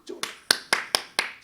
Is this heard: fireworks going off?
no